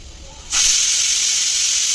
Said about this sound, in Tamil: குக்கர் வந்து விசில் வந்துருக்கு.